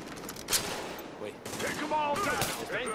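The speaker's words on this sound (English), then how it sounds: "Shooting at the guys, shooting at me." Gunfire crackles in Tom Clancy's The Division at Grand Central Station, repeated bursts of shots at moderate distance mixed with game ambience, with a voice talking over parts of it.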